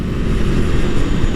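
Aprilia Tuono V4 motorcycle on its stock exhaust, a steady deep engine roar held at a constant pitch, loud and close with no talk over it.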